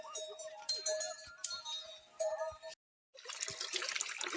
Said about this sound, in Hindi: यहाँ पे हमारे पहाड़ों में ना ऐसे ही पानी गिरता रहता है, चलता रहता है